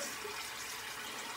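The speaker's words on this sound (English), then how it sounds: "Cold water rinse." Cold tap water runs steadily into a sink during a shaving rinse, an even, close hiss of flowing water holding the same level for the whole stretch, with no talking.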